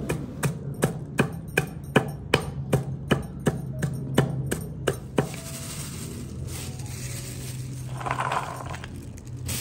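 Dried turkey berries (sundakkai) are pounded inside a bag: a quick series of about a dozen sharp, evenly spaced knocks up close, then the pounding stops and only soft handling sounds remain.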